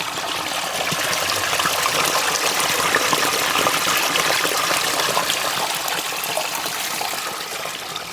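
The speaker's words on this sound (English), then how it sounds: "You can hear the water flowing." Water rushes steadily through a newly installed road culvert on an off-grid property with flooding issues, a continuous broadband flow held at an even, fairly loud level with no voices.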